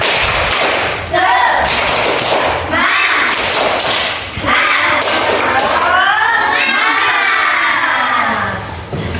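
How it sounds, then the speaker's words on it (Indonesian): Children in a classroom doing a rhythmic spirit clapping chant, loud group claps and thumps mixed with excited shouting and sing-song voices, repeating in bursts close by. "tepuk semangat"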